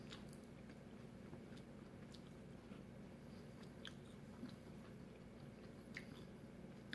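Close, moist chewing of a crunchy Taiwanese snack with soft crunches and smacks, steady and continuous with no talking.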